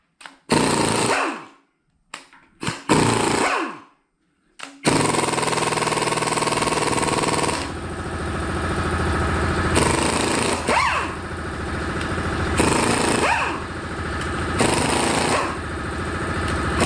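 An air compressor runs steadily in a garage during an engine overhaul on a 1986 Dodge 600, following several short loud bursts, its continuous mechanical drone holding for most of the clip with periodic rising and falling swells.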